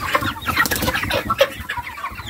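Semi-free-range white broiler chickens clucking on a poultry farm, a busy overlapping chorus of close clucks and chirps with occasional wing flaps, no talk.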